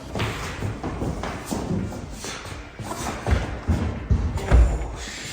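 A heavy kitchen countertop slab lowered into place, a series of deep thuds and knocks as it is tipped down and settled, close and fairly loud with shuffling and handling noise between the impacts.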